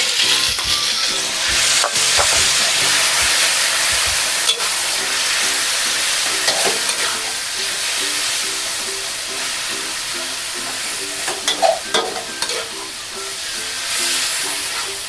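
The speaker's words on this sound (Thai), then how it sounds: "แล้วก็ใส่หมูลงไปค่ะ หมูนี่เป็นสะโพกหมู หมักกับน้ำตาลจะได้นุ่มค่ะ" Pork hip marinated with sugar stir-frying in a pan, a loud continuous sizzle with a steady hiss, punctuated by a few scrapes and clatters of the spatula, close up and without talk.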